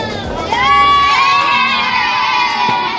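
Excited local children shout and cheer together in a crowded market alley, a loud, close cluster of high voices with one sustained rising yell standing out above the din.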